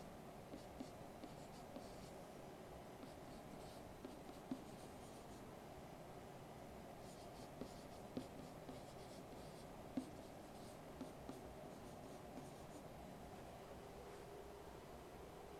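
Pen on paper while writing out a matrix by hand, a faint, steady scratching with a few soft taps as marks are made, close and alone over low background hiss.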